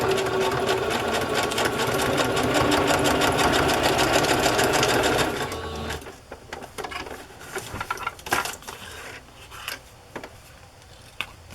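A sewing machine zigzag-stitches through paper, running loud and steady for about five seconds before stopping, then faint rustling and a few light clicks and taps.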